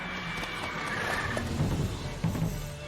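Roach, the horse in The Witcher 3, lets out a neigh amid steady hooves and game ambience, fairly close and mid-loud throughout.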